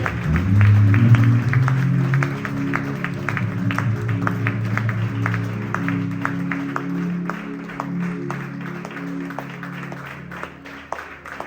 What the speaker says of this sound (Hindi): सब लोग जोरदार तालियां बजाकर खुदा के कलाम को और पास्टर रुशिदा मैनेजमेंट को जोरदार तालियां